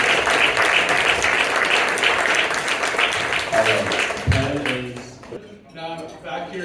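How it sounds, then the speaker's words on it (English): Applause from a convention audience in Dallas fills the room, a dense, loud wash of clapping that thins and fades toward the end as talk and other room noise come through. "let's give one more quick round of applause"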